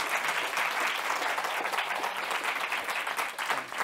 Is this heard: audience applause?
yes